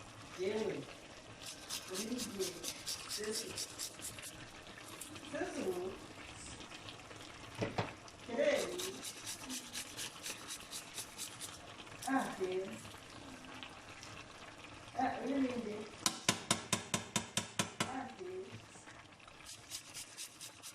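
Vegetable soup simmering in a pot, soft bubbling and a gentle stirring scrape under a speaking voice that continues through most of the clip, fairly faint and close.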